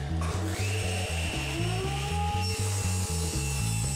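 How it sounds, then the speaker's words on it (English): A table saw with a sled cuts a beveled wooden board into a stave, its motor humming in a steady, pulsing drone while the blade rasps through the wood close up and loud. "I can clamp the board down with the beveled edge against the guide board and push it through"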